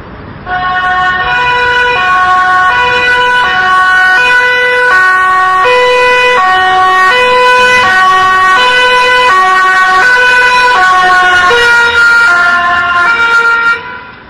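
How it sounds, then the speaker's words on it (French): A loud two-tone emergency siren alternates steadily up and down as it approaches, showing the Doppler effect, close and continuous, with traffic rumble underneath. "nous avons entendu une sirène qui s'approchait donc de nous"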